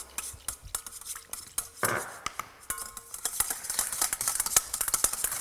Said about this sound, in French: je vais remuer de manière assez énergique pour que le xanthane se dissolve bien dans mes liquides